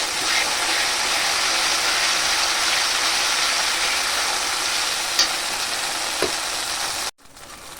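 Spice paste with coconut paste frying in a pan, a steady loud sizzle with a few light stirring knocks, cutting off abruptly near the end, with no talk.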